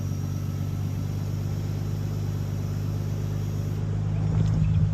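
Nissan Stagea with its engine idling while the ATTESA all-wheel-drive fluid pump runs, a steady close low hum and rumble that grows slightly louder and busier near the end.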